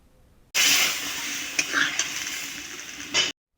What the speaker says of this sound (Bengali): আগে থেকে সেদ্ধ করে রাখা মসুরির ডাল এবং পুঁই ডাঁটাগুলো ওই তেলের মধ্যে দিয়ে দিতে হবে